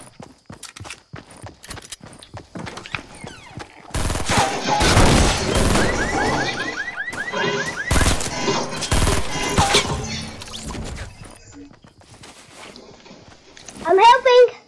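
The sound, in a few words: gunfire from other players in the video game Fortnite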